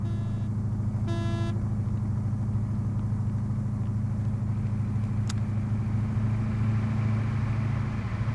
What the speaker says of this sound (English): We're just driving on a flat-ass tire, I can hear it.